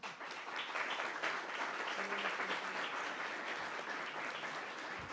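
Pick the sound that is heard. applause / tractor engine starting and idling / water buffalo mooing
applause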